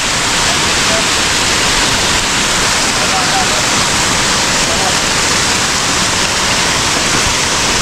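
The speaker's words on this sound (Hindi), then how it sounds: "इधर कोई पानी नहीं है, यहीं से वाटरफॉल है," Steady, loud rushing roar of a waterfall, broadband and continuous throughout, with no pauses or distinct events, near Rainbow Falls and the Double Decker Root Bridge.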